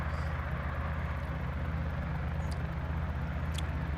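A Guimbal Cabri G2 helicopter rotor spins up at startup, making a steady, loud, low rhythmic drone with a constant turbine hum throughout.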